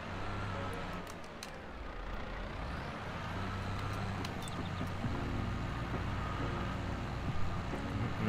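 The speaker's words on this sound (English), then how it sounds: "Noisy truck going down my road." A noisy truck rumbles steadily down a rural road, a continuous loud low engine drone with road noise building slightly over several seconds, no talk over it.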